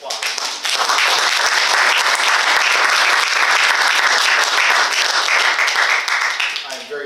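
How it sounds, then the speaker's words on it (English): An audience at a poetry reading applauds the poet, a full, steady wash of many hands clapping for several seconds at close range before tapering off at the end. "Beach a round of applause"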